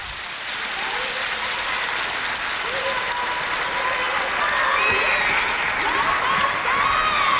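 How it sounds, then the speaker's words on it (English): A large stadium crowd at Singapore's National Day Parade 2003 applauds the Red Lions paratroopers, a steady dense roar of clapping that swells slightly louder toward the end, with faint cheers within it. "a rousing applause from everybody in the stadium"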